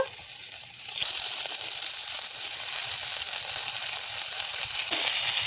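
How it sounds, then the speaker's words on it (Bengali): Bhola fish, already fried red, sizzles steadily in hot oil as the pieces are laid one by one into a wok, a continuous bright hiss with no talk. "এবারে আমি কড়াইয়ের মধ্যে এইভাবে একে একে মাছগুলো সব সাজিয়ে দেব।"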